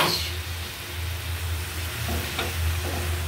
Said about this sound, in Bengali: দিয়ে দিচ্ছি চিংড়ি মাছ।